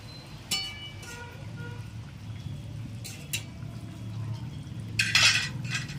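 Ground roasted cumin being stirred into a light silver carp fish curry in a cooking pot, with soft clinks of a utensil against the pan at a few moments over a low simmering hiss.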